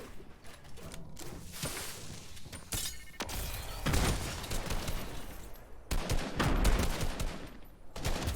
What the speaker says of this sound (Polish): Strzelaj, strzelaj, strzelaj, ile wlezie, strzelaj,